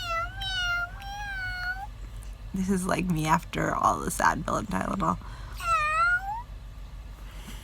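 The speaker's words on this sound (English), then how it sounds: "he keeps meowing" A cat meows repeatedly in drawn-out, rising cries at the start and end, while a person speaks in between, close to the microphone.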